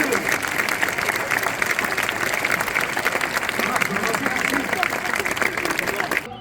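Applause from a medieval festival crowd watching a falconry show, dense and steady clapping that holds evenly for several seconds before tapering off at the very end.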